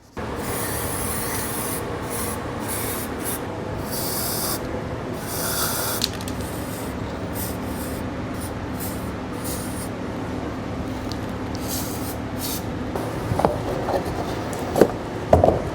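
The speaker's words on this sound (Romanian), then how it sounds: "La sfârșit, înainte să punem roata, curățăm butucul la jantă" A BMW 320d E92 wheel hub is cleaned by hand, producing a steady, continuous scraping and rubbing that carries on without pause, with a few sharper knocks and taps near the end.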